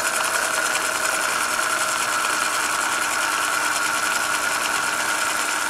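A model railway locomotive's motor runs in a steady, strained high whine, close and continuous, as the powered wheels labour on the track.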